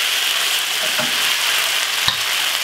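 Minced meat for bolognese browns in a hot pan, giving a loud, continuous hissing sizzle up close, with a few soft clinks from stirring.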